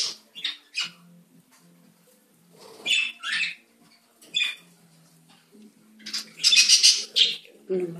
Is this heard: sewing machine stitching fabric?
no